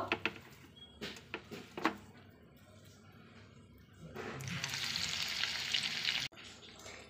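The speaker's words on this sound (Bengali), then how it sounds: "মানে একইভাবে সব কটায় বড়াই ভেজে নেব।" Small shrimp fritters frying in oil, with a few scattered pops and scrapes at first, then a dense, bright crackling sizzle swelling up as batter hits the hot oil, close and moderately loud before cutting off.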